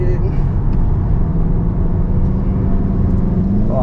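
A VW Golf GTI braking hard and turning in on the Sepang circuit, heard as a loud, steady, dense engine and road roar from inside the cabin with no clear pause.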